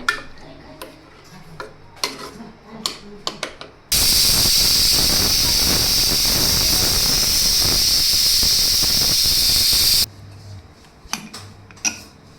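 A pressure cooker, cooking Kathiyawadi-style green pigeon pea curry, lets out one long loud steady whistle and steam hiss for about six seconds, framed by quieter kitchen clinks and ticks before and after.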